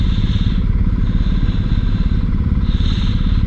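A BMW R1250 GSA motorcycle on a cold morning ride, its engine droning steadily and loudly up close, mixed with constant buffeting rumble and rattle throughout.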